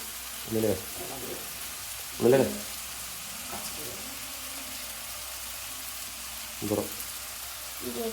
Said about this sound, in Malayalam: ഇനി അതും ഇതൊക്കെ കൂടി ഒരു ഗോൾഡൻ ഷെയ്ഡ് വരുന്നവരെ നമ്മളിങ്ങനെ ഇളക്കിക്കൊണ്ടേയിരിക്കും